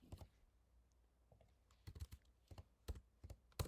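Typing on a computer keypad, a quiet, close sequence of irregular clicks and taps in short bursts, with no talking.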